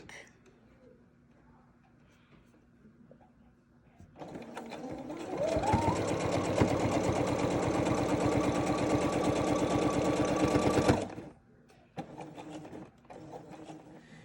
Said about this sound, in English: sew it over so that it makes a little pocket